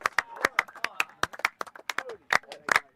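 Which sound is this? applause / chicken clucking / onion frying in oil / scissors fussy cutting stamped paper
applause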